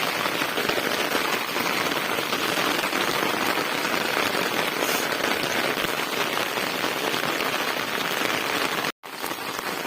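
Heavy rain pours down steadily and loudly on a flooded black gram field, a dense, unbroken roar that cuts out for a split second near the end before resuming.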